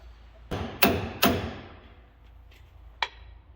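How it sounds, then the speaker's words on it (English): A hammer taps a ball joint into the front suspension of a Ram 3500 Cummins pickup: three sharp metallic strikes in quick succession, then a single lighter tap after a pause, with quiet shop ambience between. "we're almost getting it all the way in just from tapping it"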